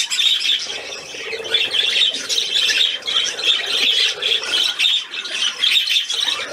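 A pet bird squawks repeatedly and loudly at close range, harsh calls following one another almost without pause throughout.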